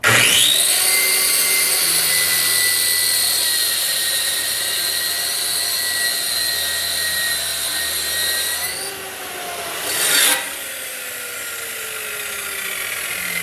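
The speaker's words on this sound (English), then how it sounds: "I'm going to turn the saw on." A power saw whines steadily as it cuts about half an inch off a wooden board, loud and sustained for several seconds before winding down, followed by a brief burst of noise.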